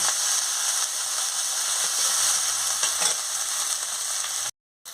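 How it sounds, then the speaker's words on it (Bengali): Poppy seed paste and cashew paste sizzle steadily in hot oil while the spice masala is cooked down for a paneer, potato and carrot curry; the frying is loud, close and continuous, cutting out briefly near the end. "পোস্ত বাটা আর কাজু বাটা দিয়ে দিচ্ছি, দিয়ে ভালো করে মশলাটাকে কষিয়ে নিচ্ছি।"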